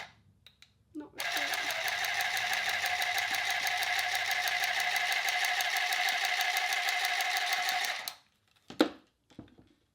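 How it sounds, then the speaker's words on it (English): A sewing machine runs steadily for about seven seconds, stitching a hem on a fabric face mask, with a fast, even mechanical whir up close, then stops, followed by brief handling clatter. "I'm gonna sew a hem."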